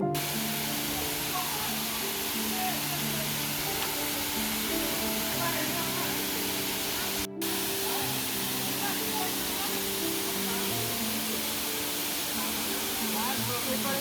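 Komoldoho (Rupsi) waterfall, swollen with rainwater, roars as a dense, constant rush of falling water heard up close, with voices talking faintly beneath it.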